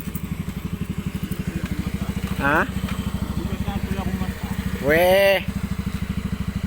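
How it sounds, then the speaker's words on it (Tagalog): Motorcycle engine idling close by in a steady low putter throughout, with two short revs or voice bursts rising above it; someone speaks briefly over the engine. "Ganda ng motor mo para."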